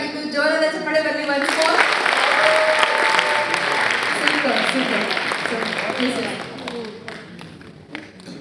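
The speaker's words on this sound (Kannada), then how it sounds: "ಜೋರಾದ ಚಪ್ಪಾಳೆ ಬರಲಿ." An audience in a tent venue breaks into loud applause after a staged Kannada drama about a modern couple. A person talks briefly first, then dense clapping swells and slowly thins out.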